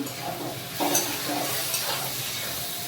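Rice frying in a pan with salt, stirred by hand: a steady, close sizzling hiss with scraping stirring strokes, with no talking.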